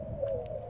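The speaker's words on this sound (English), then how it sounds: "owl sounds" Soft owl-like hooting from a Birdemic film scene, a faint steady coo with a couple of brief higher tones, heard quietly at a distance.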